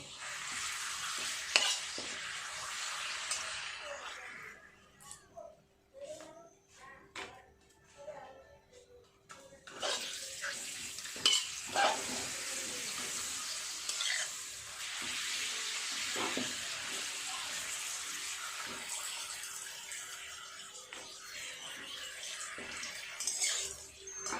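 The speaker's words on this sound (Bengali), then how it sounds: "এই সব কটা পাঁপড় ভেজে নেব।" Several papads frying one after another in hot oil make a busy, bubbling sizzle with frequent crackles and stirring clatter. The sizzle drops briefly to quieter stretches, then returns strongly and continues to the end.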